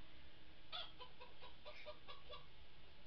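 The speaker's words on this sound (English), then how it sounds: "I see a chicken." Chicken clucking in the Minecraft Story Mode video game: a short run of soft, evenly spaced clucks over a low background hum, with no talk.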